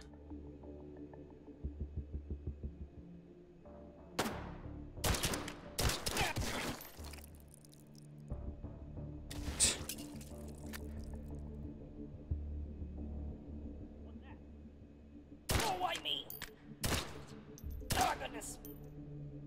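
Gunfire in the VR game Hot Dogs, Horseshoes & Hand Grenades on a custom map, heard as scattered sharp shots and short quick volleys at moderate level over a low background hum.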